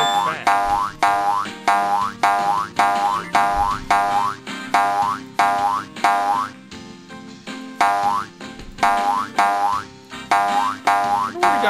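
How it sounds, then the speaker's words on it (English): Cartoonish boing sound effect from a Putt-Putt video game, repeated in a steady bouncing rhythm of bright springy twangs over faint background noise, loud and close with no talking. "I wonder where he got the boing sound effect from"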